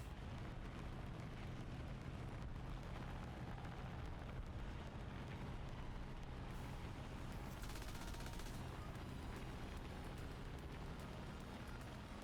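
Biplane machine guns in War Thunder, dense continuous rattling bursts of gunfire layered over a droning aircraft engine, loud and sustained throughout.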